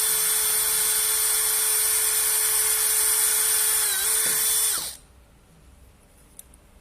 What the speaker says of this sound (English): And then I'm going to drill another hole.